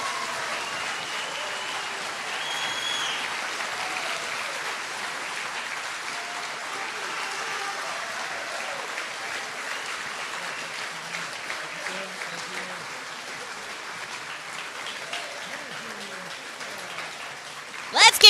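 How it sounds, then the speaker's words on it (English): Steady, moderately distant applause from a high school graduation audience, continuing evenly for about eighteen seconds with a brief louder burst at the very end. "Let's give them a big, big round of applause."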